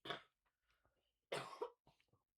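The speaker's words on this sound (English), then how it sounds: "I haven't gotten rid of my cough yet" Two harsh coughs from one person, close and fairly loud, separated by a short pause with faint breathing between them.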